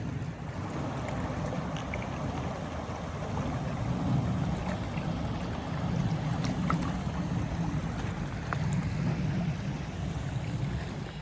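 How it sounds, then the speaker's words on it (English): Box Canyon Creek runs steadily near a forest campsite after rain, a continuous low rushing and bubbling of water, moderately quiet and unbroken, with no voices. "I just wanted to come down and get the little bubbling sounds."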